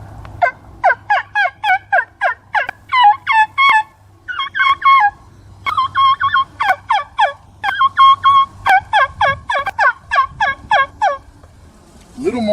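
A mouth-blown game turkey call yelps again and again in quick, rhythmic runs, mixing lower yelps with higher kiki notes imitating a younger bird, loud and close with short pauses between series.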